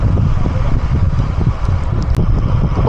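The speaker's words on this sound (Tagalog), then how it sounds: "Lakas ng hangin." Strong wind buffets the microphone while cycling downhill on Route 111, a loud, continuous low roar that gusts unevenly, with no voices present.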